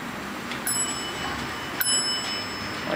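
Two sharp bell dings from an Otis traction scenic elevator at the Westin Bonaventure in Los Angeles, each a bright metallic chime about a second apart over steady background hum.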